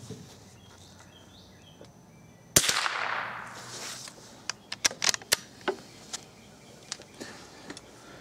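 A rifle, likely a Remington Speedmaster 552, fires a CCI .22 CB Short round with a single sharp crack, followed by several quieter clicks and clacks from handling the gun.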